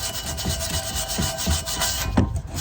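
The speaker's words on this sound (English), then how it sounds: "I'm just taking a low grit sandpaper." Low grit sandpaper rubs in repeated strokes across the flat surface of a housing, a close, gritty scratching with a steady back-and-forth rhythm and no voices.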